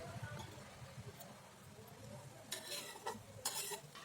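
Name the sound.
rice being stir-fried in a pan over medium heat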